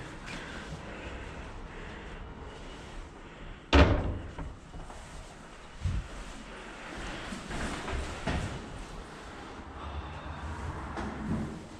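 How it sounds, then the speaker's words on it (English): A door is shut with a single sharp slam partway through, followed by softer knocks and thuds against a low, murmuring background. "Shut the door, but not all the way."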